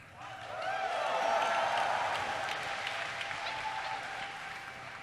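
A live podcast audience breaks into applause, a loud, steady wash of many hands that swells early, then holds and slowly eases off, with faint voices underneath.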